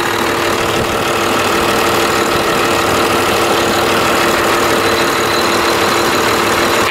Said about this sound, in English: This engine runs fantastic.